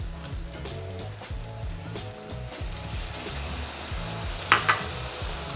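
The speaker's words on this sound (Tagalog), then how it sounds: "Kapag medyo naprito na yung chicken thigh, ilagay na natin itong soy sauce." Chicken thigh fries in a pan with soy sauce, a steady close sizzle under repeated rhythmic scraping and stirring, with a sharp clatter near the end.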